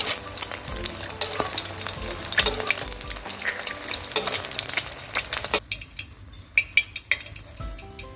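Eggs fry in hot oil for Thai crispy pork basil, a loud continuous crackling sizzle with scraping stirring, easing near the end into sparser pops and a few metallic clinks of a utensil against the pan.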